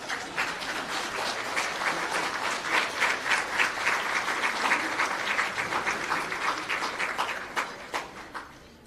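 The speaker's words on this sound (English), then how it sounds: "May I invite you another round of applause?" Audience applause fills a hall at a science and technology medal and innovation awards ceremony, a sustained round of many hands clapping with individual claps audible, swelling and then thinning toward the end.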